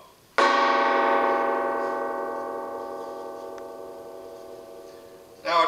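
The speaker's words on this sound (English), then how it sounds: "I'm the proud owner of a gong" A metal gong with a large cracked defect is struck once, blooming into a loud, shimmering ring that decays slowly over several seconds before a second strike begins at the very end.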